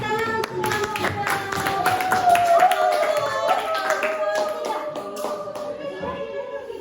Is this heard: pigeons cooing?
no